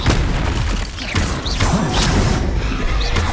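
Spells cast and exploding in the Hogwarts Legacy video game, including the Confringo blasting curse: dense, continuous game effects with whooshing bursts and booming crashes layered over a busy mechanical backdrop.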